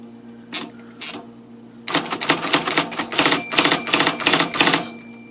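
An IBM Selectric typewriter types, first two isolated strikes, then a rapid burst of close, crisp key strikes, with a brief bell ring as the carriage reaches the right margin stop and the typing halts.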